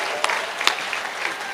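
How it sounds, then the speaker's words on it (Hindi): An audience at a live gathering of sung poetry claps: a short, dense burst of steady applause with a few sharper individual claps standing out near the front. "उठ के बजा दीजिए तालियां"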